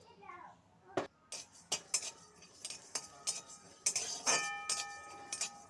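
Coriander seeds and whole cumin are dry-roasted in a kadai as a metal spoon scrapes and clinks against it in irregular, sharp strokes, close by.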